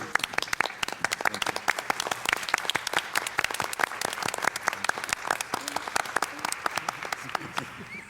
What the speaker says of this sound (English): we really need to give him a standing applause